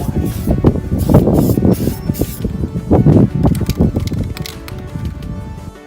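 Aerosol spray paint can laying a first coat onto a car body, close hissing bursts in uneven pulses with short gaps between passes, with no talk over it.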